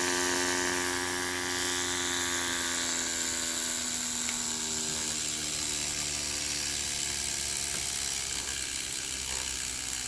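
A 3D printed electric motor with ceramic bearings spins at high speed on a makeshift rig, giving a loud, steady, close whine with a buzzing, gear-like rattle and a pitch that drifts slightly.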